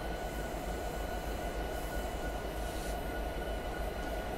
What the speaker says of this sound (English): So we just need to stop the train.